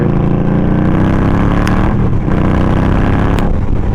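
A 2023 Indian Scout Rogue motorcycle riding off, its engine a loud, steady rumbling drone with a slight rise in pitch, close up and continuous throughout.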